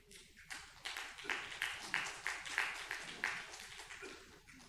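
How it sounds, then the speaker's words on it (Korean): A small church congregation claps in a steady, rhythmic burst of applause lasting several seconds, fairly close and moderately loud. "한 박수 이렇게 해주세요."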